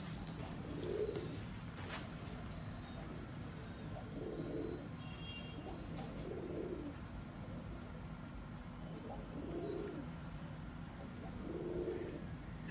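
Kamgar breed pigeons coo in slow repeated low bursts about every two seconds, close by, over steady background hiss with faint higher chirps.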